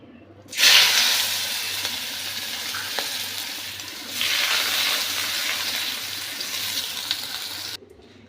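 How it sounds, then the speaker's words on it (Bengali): Small chopped onion hits hot oil left from frying fish and sizzles loudly at once, a close, steady hiss and crackle that surges midway and then stops abruptly near the end. "আমি একটা ছোট্ট সাইজের পেঁয়াজ কুচো করে রেখেছি, এইটাকে বেরেস্তা করব বলে আগে ভেজে তুলে নিচ্ছি"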